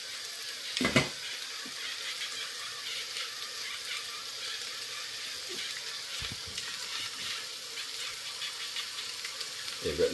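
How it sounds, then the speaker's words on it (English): Garlic sautés in a pan for stroganoff, giving a steady, soft sizzle with a few sharp scraping and stirring knocks near the start and end. "That's sauteing actually pretty good."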